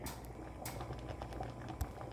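Spinach sambar bubbling in a pot on the stove, a soft steady simmer with small popping bursts, close and quiet with no talk.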